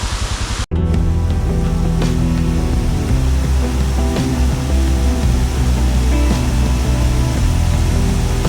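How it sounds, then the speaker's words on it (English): A monsoon waterfall along the Charmadi road roars as a broad, constant rush of falling water, loud and close, after a brief cut near the start, with motorcycle riding noise mixed in. "Waterfall over here."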